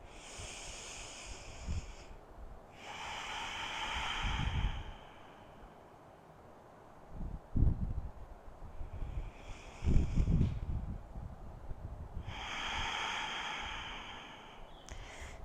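Slow, deep breathing during a quiet yoga session, with several long airy inhales and exhales spaced a few seconds apart, close to the microphone and soft, with no talking.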